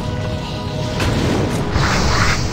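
A fire spell slams into an enemy in an online role-playing game, a short burst with a whooshing crackle and a rising roar that swells toward the end, loud and close.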